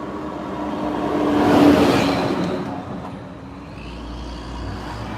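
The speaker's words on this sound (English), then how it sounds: "wait till this big ass truck passes." A big truck passes by on a road, its engine rumble building to a loud peak and then fading away as it moves off, with no voices over it.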